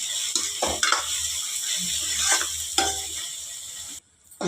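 Onion, carrot and capsicum sizzle in a pan while a spatula scrapes and clinks against the metal a few times, close and loud, before the sound cuts off abruptly near the end.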